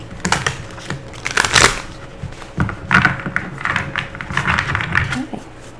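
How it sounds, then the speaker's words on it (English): Tarot cards riffle and slap together in quick bursts, crisp papery flutters with short pauses between shuffles, close by. "Okay, one more shuffle,"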